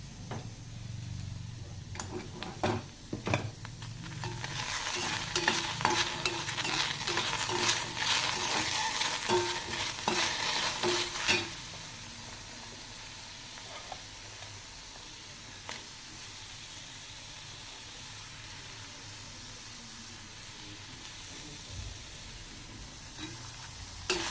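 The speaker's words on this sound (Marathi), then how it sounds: "सर्व मसाला अशा प्रकारे गरम करायचा आहे" Whole spices, cumin among them, heated and stirred in a pan for a soybean vegetable dish: a busy sizzle with scraping, ticking stirs for about ten seconds, then a faint low hiss with occasional light knocks.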